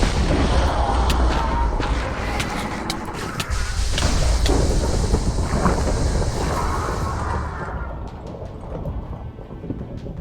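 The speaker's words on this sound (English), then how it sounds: "So the lightning dragon shoots lightning" A lightning dragon in the Minecraft Ice and Fire mod unleashes crackling lightning blasts, heard as sustained, loud rumbling booms and sharp crackles that fade out toward the end, with no talking.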